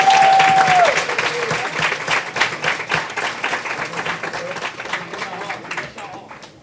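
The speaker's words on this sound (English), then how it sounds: "Please give a round of applause for Reggie Hatchett." An audience at an award ceremony claps for an honoree, a loud burst of dense applause with cheering voices mixed in that slowly fades toward the end.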